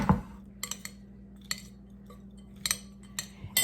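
A spoon clinks against a bowl while bacon bits and hamburger meat are stirred together, a few light scattered taps over a steady low hum.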